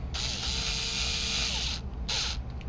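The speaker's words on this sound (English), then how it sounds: "I personally prefer using a electric screwdriver just because it makes my life a little bit easier" Electric screwdriver driving screws during assembly of a MODE Saturn Model 2, a steady high whirring motor run for nearly two seconds, then a short second burst, close and loud with no talk.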